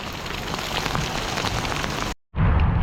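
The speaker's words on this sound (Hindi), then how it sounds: "लेकिन बारिश बहुत ज़्यादा है भाई" Heavy rain pours steadily in the mountains, a dense, continuous hiss of drops hitting surfaces that cuts out briefly near the end before resuming loud and close.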